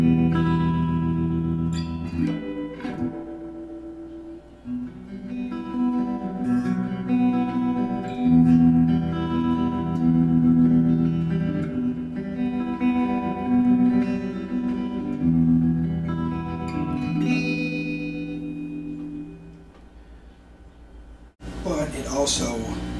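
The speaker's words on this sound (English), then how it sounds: "Tremolo circuit in." Electric guitar played through a Fender '65 Twin Reverb reissue amp with tremolo engaged, sustained chords pulsing under lush reverb for over twenty seconds, loud and close, ending with a brief noisy burst.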